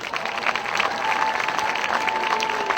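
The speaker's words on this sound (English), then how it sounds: "please give all these sponsors a round of applause." A halftime crowd at a high school football game applauds the sponsors, giving steady, dense clapping with a faint cheer, heard over a continuous tone from the sound system.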